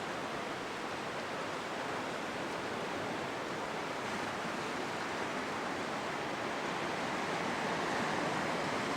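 Steady broadband wash of sea waves breaking along a rocky coast, continuous and fairly loud with no distinct individual crashes, heavily blended with wind rumble.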